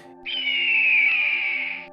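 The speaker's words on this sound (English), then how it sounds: "And the majestic eagle's cry we're familiar with" A film-style eagle cry rings out as a single shrill, piercing, sustained scream lasting under two seconds, clear and close, with no other sound around it.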